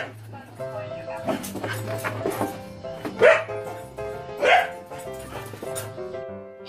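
A dog barks a few times over music and background sound, with a couple of louder yips standing out.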